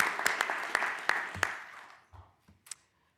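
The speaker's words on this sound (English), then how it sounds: "let's give him a round of applause" A short burst of scattered handclaps at a board of commissioners meeting quickly thins to a few isolated claps and fades out, fairly quiet, with no talking.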